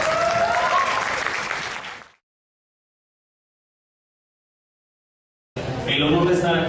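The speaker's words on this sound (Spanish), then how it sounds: "Damos un aplauso y la bienvenida aquí a la Universidad de Ecatepec a Juan Carlos Gutiérrez Royo." A university audience claps to welcome a speaker to a conference, a dense, even burst of applause that fades out, then a gap of silence, then the applause returns with voices over it.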